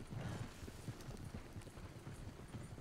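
Faint, steady clip-clop of a horse's hooves trotting behind the player in a video game, a quiet rhythmic patter over soft background noise.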